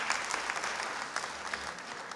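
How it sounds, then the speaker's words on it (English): Audience applause at a spring graduation ceremony fills the hall as a steady, dense wash of clapping with no pauses, continuing across the whole stretch. "Can we also give him a big round of applause"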